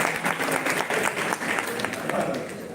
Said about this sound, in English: Some clap for him also.